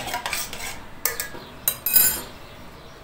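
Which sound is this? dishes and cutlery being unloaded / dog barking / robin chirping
dishes and cutlery being unloaded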